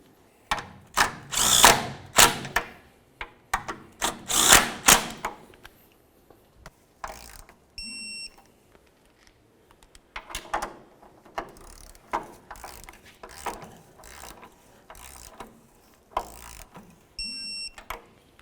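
A ratchet wrench and a power tool snug and tighten the transmission mount bolts on a 2001-2006 Chevrolet Silverado 2500, giving bursts of rapid clicking and whirring, then quieter intermittent ratchet clicks with pauses between them.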